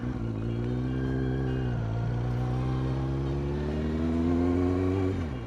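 A motorcycle engine drones steadily and close, its pitch sinking as the rider brakes and taps down through the gears toward first, then swelling as the bike pulls away.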